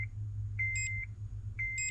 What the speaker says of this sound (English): You can hear beeps, single beeps.